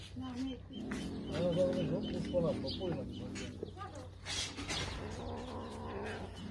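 Many cats growling and yowling close by, rising wails and low grumbles overlapping in bursts with some brief chirps, as people talk quietly over them.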